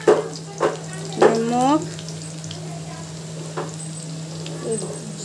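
Onion frying in a pan gives a steady soft sizzle, with a few stirring scrapes and a voice speaking briefly over it.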